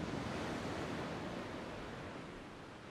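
Ocean waves in The Sims video game roll as a broad, steady surf wash, constant and moderately loud with a slight fade toward the end and no voices.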